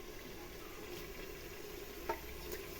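Tomatoes sizzle faintly in a pan with softened onion and ginger-garlic paste, a low steady frying hiss with a small clink of a utensil partway through.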